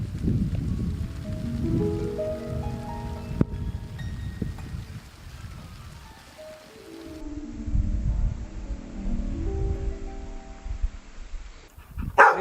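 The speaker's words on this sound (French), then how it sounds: "La pluie est de retour." Rain patters on dried-out corn plants in a rural field, a close, rustling hiss that swells and fades, with a dog barking repeatedly nearby.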